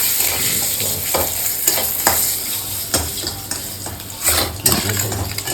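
Onion and dried red chillies frying in a pan for Bengali potol bhaja make a loud, close, continuous sizzle, overlaid with repeated scraping and clinking from a spatula stirring against the metal.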